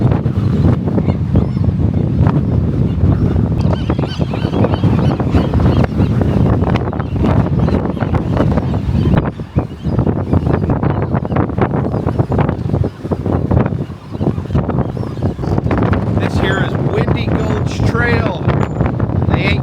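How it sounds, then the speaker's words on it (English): Heavy wind buffets the microphone with a constant loud rumble above a bird nesting site on Alcatraz Island, San Francisco, while geese honk now and then in the background. "It's very, very windy."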